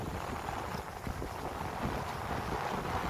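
Wind blows at the seaside in Aewol on Jeju Island at sunrise with waves nearby, a continuous low buffeting rush against the microphone and no voices.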